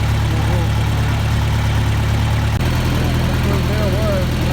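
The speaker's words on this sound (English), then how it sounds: "I'm going to see if I can push it over here with my tractor." A farm tractor idles steadily near the microphone during hay bale work with cattle, a loud continuous low engine drone with a slight shift in pitch partway through and faint talking underneath.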